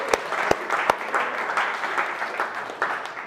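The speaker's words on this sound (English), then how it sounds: "We'll give him a round of applause." Applause from a team gathered at an all-staff company update, a dense patter of clapping with a few sharper, louder claps near the start, steady and close throughout.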